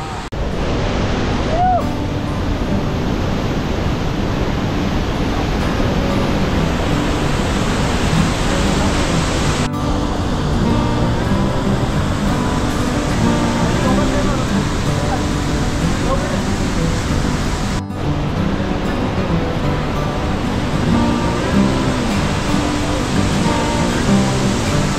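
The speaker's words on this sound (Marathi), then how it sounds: "तुम्ही पाहू शकता इकडं अतिशय सुंदर असा धबधबा आहे" A broad, steady roar of rushing water from a waterfall, loud and close, continuing without a break for the whole stretch.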